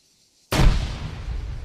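A fragmentation grenade goes off in the Arma 3 military shooter: after half a second of silence, one sudden loud blast hits, then a rumbling roar lingers and fades through the remaining second.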